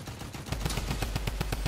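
Rapid gunfire in Fortnite, Blitz Royale mode, mostly automatic, rattles in a fast, steady rhythm after a brief lead-in, loud and close with no voices.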